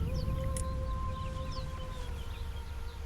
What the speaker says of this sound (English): I'm hearing singing